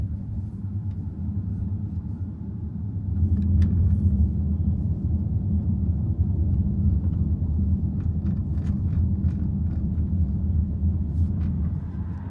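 An Audi A6 e-tron rolls over cobblestones in Düsseldorf, heard from inside as a dense, continuous low rumble of tires on uneven stone that swells slightly partway through, with faint knocks and rattles above it.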